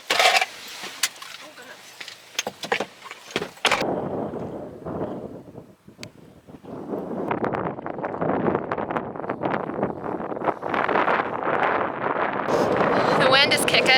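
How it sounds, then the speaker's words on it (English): Strong gusty wind buffets the microphone at Arches National Park near Moab, Utah, roaring loudly and building steadily, with people talking and handling noises in the first few seconds. "The wind is kicking."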